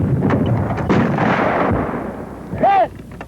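A 37 mm anti-tank gun fires amid background battlefield noise, with a sharp loud report followed by a rumbling tail, while distant voices and other sounds carry on under it.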